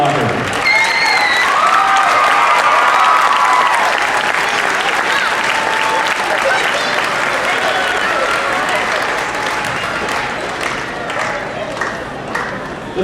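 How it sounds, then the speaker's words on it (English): Loud, sustained crowd applause with some cheering at a high school basketball state runner-up ring ceremony, steady for most of the clip before gradually thinning toward the end. "Let's give all another round of applause."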